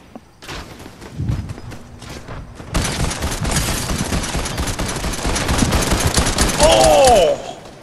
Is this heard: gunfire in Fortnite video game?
yes